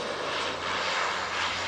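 A Beechcraft propeller aircraft passes near East Midlands Airport as a brief, steady engine drone that swells slightly in the middle.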